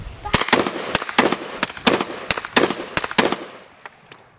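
Sharp shots from a .22 and a 12 gauge fire in paired beats that mimic a normal sinus heart rhythm, about eight loud, close reports falling in a steady, evenly spaced pattern.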